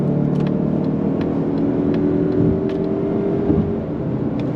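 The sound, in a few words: Mazda CX-30 Turbo accelerating on throttle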